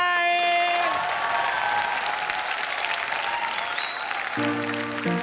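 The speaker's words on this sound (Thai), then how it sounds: "ขอเสียงปรบมือกับโชว์จากน้องฟ้องและน้องเข้าใหม" Audience applause greets a children's yoga performance on a kids' audition show, a dense, steady wash of clapping carrying on for several seconds as piano notes ring out at the start and again near the end.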